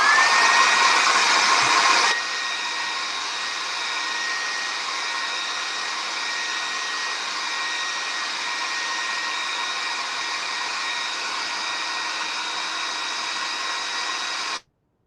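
A hair dryer blows hot air to dry craft paint, starting on a higher setting for about two seconds, then running steadily at lower power until it cuts off, loud and close with no talk.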